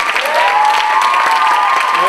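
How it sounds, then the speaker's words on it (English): An audience claps and cheers loudly and continuously, a dense close wash of hand claps with scattered shouts of approval after a school performance. "Everybody give a big round of applause to Ms."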